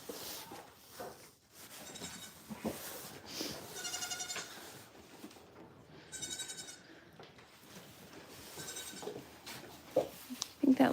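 Baby goat bleats on a goat farm, several drawn-out nasal cries rising over steady outdoor background noise, fairly close and moderately loud.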